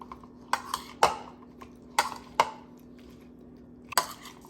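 Cucumber salad with a splash of vinegar tossed in a bowl, giving a handful of sharp utensil clinks and taps against the bowl at an uneven pace, close and clear against a steady low hum.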